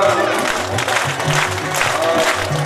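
A religious gathering claps along during a devotional Bhagwat discourse, dense clapping over a held musical tone and low pulsing rhythm, loud and continuous.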